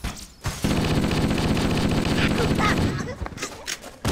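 Rapid pistol gunfire in Halo CE, a dense continuous burst of shots lasting a few seconds, loud and close, followed by scattered lighter impacts and game sounds.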